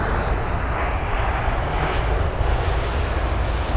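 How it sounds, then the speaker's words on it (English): Lufthansa Airbus A320neo from Frankfurt landing at London Heathrow, a loud, steady broadband jet roar with wind buffeting, close and continuous throughout. "this is the A320 Neo from Frankfurt"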